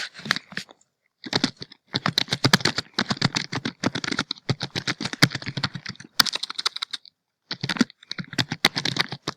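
Rapid typing on a computer keyboard, steady clattering keystrokes in bursts with brief pauses, close and fairly loud, no talk.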